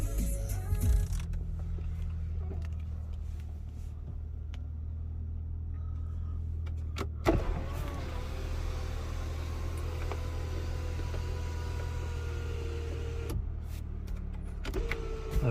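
An electric car sunroof motor runs to fully open, a steady low mechanical whir with a clunk partway through as the panel keeps sliding, heard up close in a quiet cabin.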